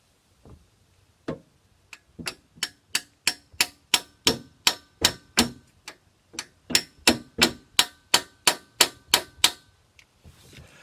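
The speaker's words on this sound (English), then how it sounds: "I'm going to stick that in there and I'm going to tunk it with a hammer" A hammer taps a socket extension down onto a broken spark plug stuck in an engine, about two dozen sharp, evenly spaced metallic strikes in a steady rhythm, close and clear with no talking.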